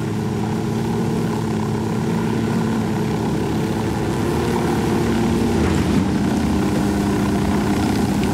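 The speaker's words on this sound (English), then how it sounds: "I'm gonna go down and snag the other helicopter" A helicopter in a video game gives off a steady, loud, droning rotor and engine hum that holds constant throughout, close by, with no voices over it.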